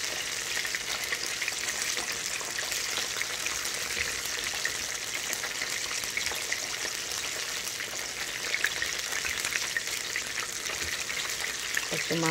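Oil splatters and sizzles steadily as food fries in a pan, a dense, continuous crackle at even loudness that swells briefly toward the end.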